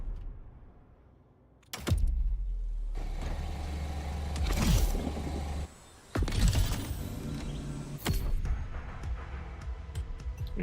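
A Lamborghini in The Crew Motorfest revs and roars up close, with sharp engine blips, gear-change bursts and steady high-rpm drone after a quiet start.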